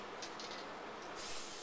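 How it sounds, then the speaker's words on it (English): A short, steady hiss of tacky adhesive sprayed from an aerosol can onto wax paper, close and continuous, growing slightly louder toward the end. "we're going to shake it and we're going to spray"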